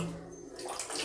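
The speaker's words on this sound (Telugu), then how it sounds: "అదే స్లోగా వాటర్ వస్తుంది." A bathroom tap turned on with water trickling out slowly, a faint, brief flow that rises into a soft rushing splash.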